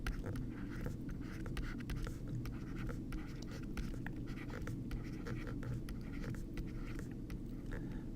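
Pen or pencil writing numbers by hand on paper, a steady scratchy stream of strokes and taps over a constant low background hum, close and continuous, with no talking.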